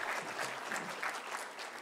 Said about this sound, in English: Big round of applause for Tim, too, putting it all together, okay?